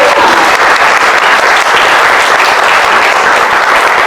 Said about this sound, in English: And you can applaud for them.